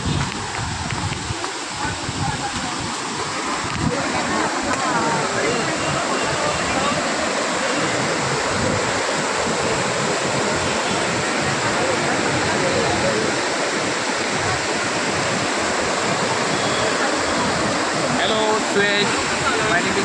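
Monsoon waterfall at Malshej Ghat roaring with a dense, continuous broadband rush of falling water, loud and steady throughout, with a voice faintly talking beneath it.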